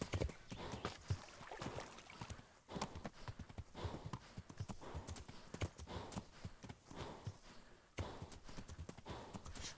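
Hooves clip-clopping in an uneven rhythm, with a horse snorting and breathing in the video game Kingdom Come Deliverance, the breath sound glitched; close, fairly quiet, with short gaps between steps.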